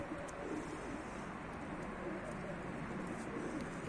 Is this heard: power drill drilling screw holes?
no